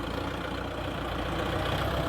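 A Kubota tractor engine idles with a steady, low, rumbling chug, close and continuous, with no voices.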